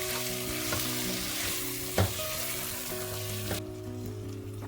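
Three chopped medium tomatoes sauté in hot oil with the masala for a mutton jeeragasamba dum biryani, giving a steady close sizzle with occasional stirring knocks against the pan, no voices.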